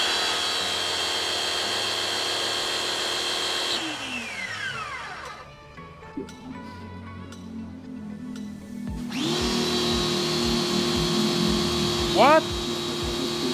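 A Soarfly 680 watt jet cleaner motor whines loudly, spins down to a stop, then starts again and whines on, with a brief spoken word in between.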